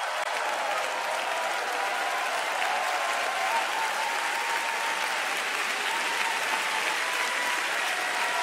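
Audience applause at a sermon in Singapore, a dense and even wash of clapping from a large crowd that holds steady from start to finish with no talk over it.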